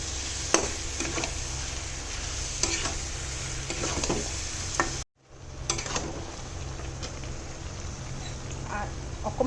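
Goat meat fries with chili powder and yogurt in a pan, a steady close sizzle with stirring clatter, briefly cut off midway before resuming.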